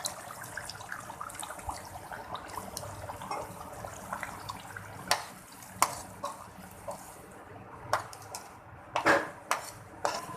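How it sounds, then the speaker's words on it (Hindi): Water is added to a pot of potato pakora curry in a home kitchen, giving a steady watery wash with light clinks of a pot and utensils, no voices over it. "थोड़ी सी मैं और पानी इसमें ऐड कर देती हूँ।"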